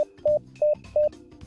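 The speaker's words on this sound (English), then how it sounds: "5 little beeps" A game monitor gives off short electronic Morse code beeps, a quick evenly spaced run of clean, steady tones with gaps between them.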